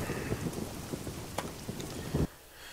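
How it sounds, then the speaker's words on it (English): Rain in Euro Truck Simulator 2, a dense hiss of falling water with scattered heavier patters and thumps, steady until it cuts off abruptly near the end. "Oh goody, rain again."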